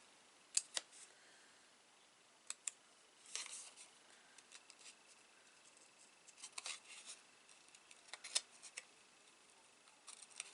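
Scissors snip around stamped card stock for fussy cutting, sharp intermittent clicks and snips scattered over quiet, close and faint with irregular gaps.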